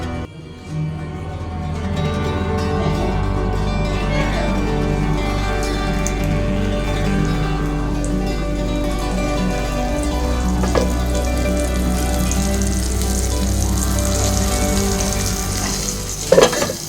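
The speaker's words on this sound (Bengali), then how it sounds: "এবার ডুবো তেলে ভেজে নেব মাছগুলোকে" Coated topse fish deep-fry in oil, producing a dense, steady bubbling sizzle that stays loud and even throughout, with a low hum underneath and no speech.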